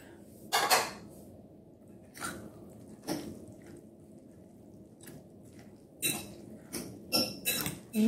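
Tabbouleh ingredients, tomatoes and onion among them, are stirred together in a bowl, giving several close, wet squishing and scraping bursts with quiet pauses between them.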